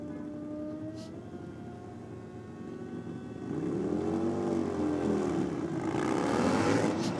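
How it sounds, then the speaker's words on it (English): Two drag-racing motorcycles, a Jackson 1000 and a custom Harley, idle and then rise into loud engine revs with climbing, wavering whine as they pull away, close and strong and growing louder toward the end. "Angela out now on the Jackson 1000. Taking on one of the Dark Side custom Harleys."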